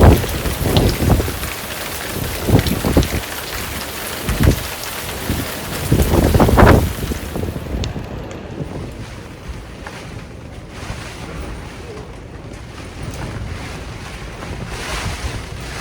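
Gusty wind and heavy rain beat against a boat, with loud bursts of spray early on, then a steadier rushing hiss.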